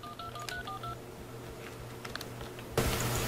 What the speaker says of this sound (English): this is what Carl Groves would hear when he tried to use his landline